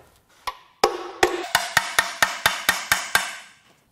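A hammer taps an engine oil pan loose on a 2.7L Ecoboost V6 from a 2015–2017 Ford F-150 during teardown: about a dozen sharp metallic knocks, first spaced, then a fast even run of blows that ends abruptly.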